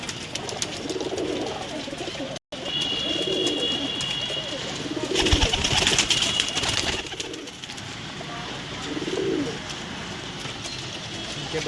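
Pigeons coo in repeated low, throaty bursts inside a loft, fairly close and steady, with a brief high whistle-like tone and a louder rustling, flapping stretch midway.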